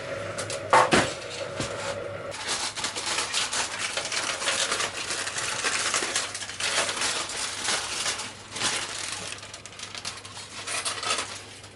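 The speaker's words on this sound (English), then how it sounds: "I'm just going to cover it and put it back in the oven now" A covered slow-roast leg of lamb goes back into the oven, with clattering of a pan and cover, a sharp bang of the oven door, then ongoing rustling and handling noises over a low steady hum.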